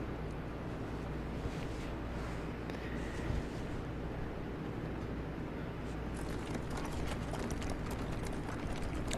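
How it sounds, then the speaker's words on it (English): In a Bloodborne cutscene, a horse-drawn carriage bearing the Cainhurst Castle insignia rolls along with steady hoof clip-clops and creaking, rattling wheels. A brighter layer of sound joins partway through. "Horse-drawn carriage with the insignia of Cainhurst Castle."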